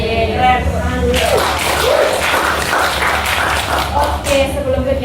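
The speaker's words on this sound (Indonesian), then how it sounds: "Tepuk tangan dulu." A group clapping hands at a university student event, a loud burst of close applause starting after a second of talk, with voices around it and speech resuming as it ends.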